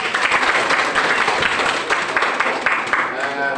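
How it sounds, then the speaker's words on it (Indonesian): Audience applause in a classroom after a student presentation on monetary policy, a loud, dense wash of clapping from a group that continues steadily throughout, with a murmur of voices beneath it. "Ya, tepuk tangan dulu."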